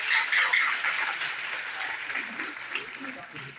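Audience clapping at a youth grammar competition results ceremony in Baltistan, a steady, moderately distant wash of applause that holds throughout without anyone speaking.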